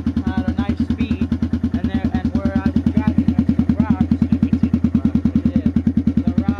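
A 1986 Kawasaki Bayou 300 ATV engine idles close by with a holed muffler, a loud, rapid, evenly pulsing exhaust putter, steady and throaty.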